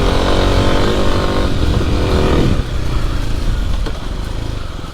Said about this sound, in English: this bike in first gear just rips